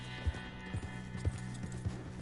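Horse hooves clip-clopping in Red Dead Redemption 2, a steady run of four heavy, evenly spaced footfalls over a constant low game ambience, with no talk.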